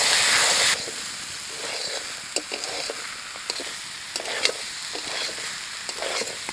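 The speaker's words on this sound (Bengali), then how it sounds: "আলু মটরটা একটু কষাই নিছি" Boiled peas and potatoes fry in spice masala for ghugni, a loud hiss at first settling into steady sizzling, punctuated by sharp clicks and scrapes as a spoon stirs the pan, with no speech.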